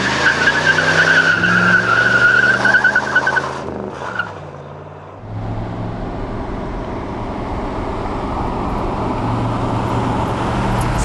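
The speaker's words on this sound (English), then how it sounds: "these were also notorious for neck snap and acceleration" A classic Chevy accelerates hard, tires squealing as the engine revs high, then it shifts and settles into a loud, steady drone of engine and road noise, recorded close.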